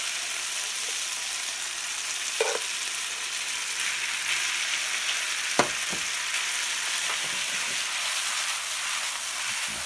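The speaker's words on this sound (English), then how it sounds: "I'm going to add my cold pasta that's been blanched directly to the pan." Cold blanched pasta sizzles in olive oil in a pan for puttanesca, an even steady frying hiss with a few brief clinks and stirring knocks, close and continuous with no talking.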